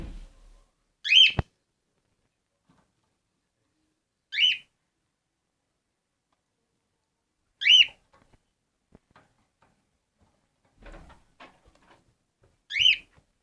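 A single bird sings short whistled phrases, four of them spaced a few seconds apart, clear against an otherwise quiet background.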